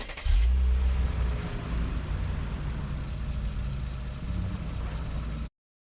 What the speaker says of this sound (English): And now when the character enter the vehicle,